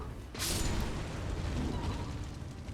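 A fire pot exploding in the video game Elden Ring at Caria Manor, a sudden loud burst that swells into a sustained roaring, crackling rumble lasting a couple of seconds.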